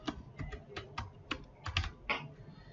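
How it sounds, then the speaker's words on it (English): Fingers type on a computer keyboard, giving a brief burst of about a dozen close, irregular clicks. "Just simply click here and type something like"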